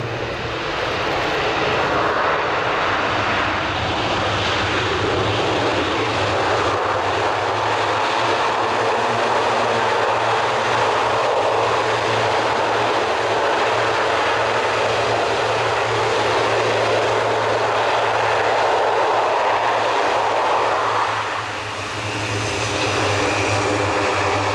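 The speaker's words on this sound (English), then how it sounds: "with the use of reverse pitch on the propellers, we should expect to see a very short tactical landing" Airbus A400M Atlas turboprop military transport at an airshow display, landing and using reverse propeller pitch: a loud, continuous propeller and engine roar that holds steady throughout, dipping briefly near the end.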